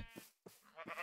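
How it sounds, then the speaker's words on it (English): Sheep in Minecraft Java 1.20 bleat in a few short, close calls separated by brief pauses, with no one talking over them. "We got sheep."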